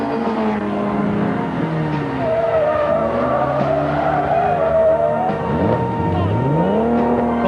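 Classic rally cars race a smooth first stage on a circuit, among them Roger Clark's low-line Triumph TR4, its engine revving and rising and falling in pitch as the car passes, with brief tire squeal mixed in.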